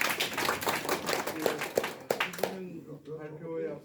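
Audience applause at a Korean public launch event, a burst of clapping with distinct individual claps that stops after about two and a half seconds and gives way to speech.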